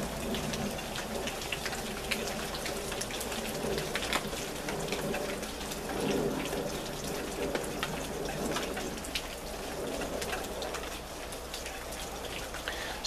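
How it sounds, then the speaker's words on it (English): Steady rain pours down in a dense, close hiss of drops hitting surfaces, easing slightly toward the end, with no voices. "See, now the rain is letting up a little bit."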